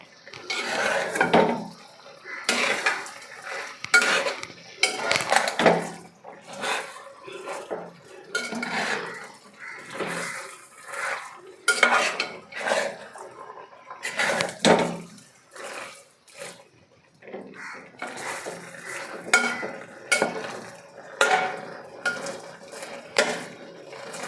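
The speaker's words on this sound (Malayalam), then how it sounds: "ഫുള്ള് ചേർത്ത് നന്നായി ഇളക്കാം ഒരു പാടുപെട്ട് തന്നെ ഇളക്കണം" Spoon stirring a thick tapioca and sardine mash in a pan, with repeated scraping and clinking of metal against the pan in an uneven rhythm, close and moderately loud, no voices.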